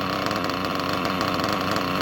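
A worn RC nitro engine with low compression and a beat-up head idling, a steady buzzy rattling drone, close and moderately loud with no talk.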